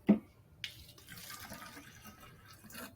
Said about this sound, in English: pour a little bit of water in here,